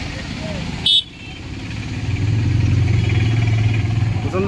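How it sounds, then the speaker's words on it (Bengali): Busy street traffic in Mathabhanga, with cars, motorcycles and e-rickshaws passing close by. A brief horn toot sounds early, followed by a steady engine rumble that grows louder, with people talking over it. "প্রচণ্ড ট্রাফিক থাকে গাইস এই জায়গায়।"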